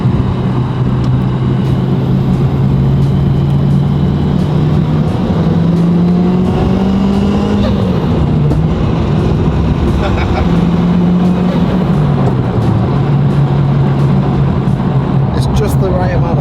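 A Nissan Silvia S15 fitted with a turbocharged MR2 3S-GE engine drives along, its steady engine drone shifting pitch as it cruises, with faint scattered exhaust pops, heard from inside the car.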